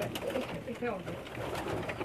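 Rare Pakistani pigeons coo on a rooftop in soft, repeated, throaty calls. They are heard up close, with people's voices talking faintly alongside.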